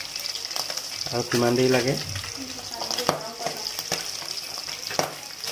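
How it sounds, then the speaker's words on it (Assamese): Fish frying in hot oil in a pan, a steady close sizzle with scattered crackles and stirring clatter, while a person briefly talks over it. "এয়া মাছখিনি বৰ্তমান ফ্ৰাই হৈছেগৈ"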